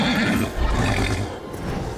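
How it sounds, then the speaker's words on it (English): A horse neighs in the video game Darksiders during a fight against the horse, its whinny rising over a dense, loud game soundtrack with rumbling low effects. "so now you have to fight his horse"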